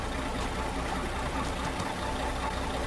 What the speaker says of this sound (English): Shut down your engine!